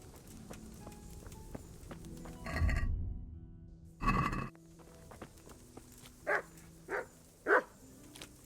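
Dogs in the medieval game Kingdom Come: Deliverance give several barks, two louder bursts followed by three shorter, evenly spaced barks, heard over a soft village ambience.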